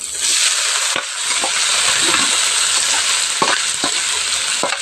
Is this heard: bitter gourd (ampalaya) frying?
yes